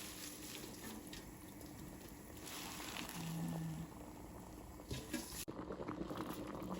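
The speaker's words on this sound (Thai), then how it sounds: "น้ำลวกผักของเราก็จะใส่เกลือลงไปน้อยนึงเด้อน้ำฟดดีๆแล้วเราก็ใส่ผักลงไป" Vegetables blanch in a pot of boiling salted water, giving a steady bubbling and rolling simmer with a few splashes and clunks near the end and no talking.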